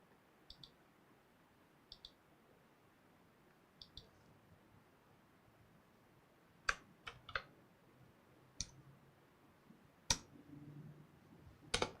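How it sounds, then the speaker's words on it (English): Computer keys click faintly and sparsely on a mini PC setup, with a few paired taps at first and then scattered sharper keystrokes in a quiet room. "I gotta stop hitting the wrong keyboard."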